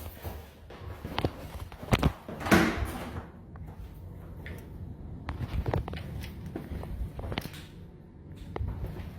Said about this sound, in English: I'm hearing like shuffling sounds outside the door.